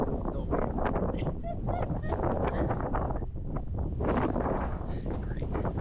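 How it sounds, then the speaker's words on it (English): Strong gusting wind buffets the microphone at an exposed quartz-strewn mountain summit on Black Balsam Knob in North Carolina, a loud, continuous roar with surging gusts throughout and no talking. "I love the wind."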